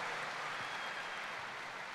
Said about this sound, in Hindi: जोरदार तालियां हमारे वीनस लीडर प्रदीप मिश्रा जी के लिए